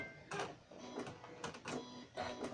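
A sewing machine reverse-stitches back and forth over a zip on a makeup bag, running in short, close mechanical bursts separated by brief pauses.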